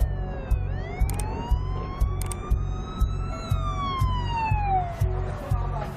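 An ambulance siren wails in rising and falling sweeps, loud and steady over a pulsing low engine rumble, heard alone with no talk.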